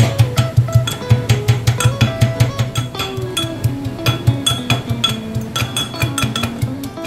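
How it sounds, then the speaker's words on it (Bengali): Garlic crushed with a mortar and pestle in a home kitchen, a quick run of sharp, rhythmic metallic pounding strikes, close and steady throughout, over faint background music. "আমি হামানদিস্তাতে রসুনটা একটু ছেঁচে নিই।"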